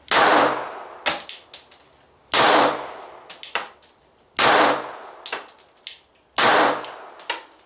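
Four evenly spaced Glock pistol shots ring out about two seconds apart, each a sharp loud crack with a decaying tail, followed by faint metallic pings of steel targets or brass.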